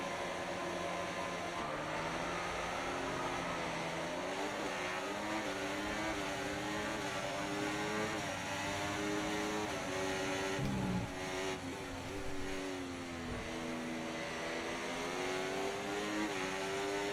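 Formula 1 cars in the F1 24 racing game pulling away from the grid at the race start, a continuous layered engine whine rising and shifting in pitch as the pack accelerates, steady and moderately loud with no talk.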